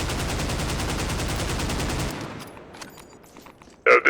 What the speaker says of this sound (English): the VJ base pulse rifle has a lot less recoil than the vanilla one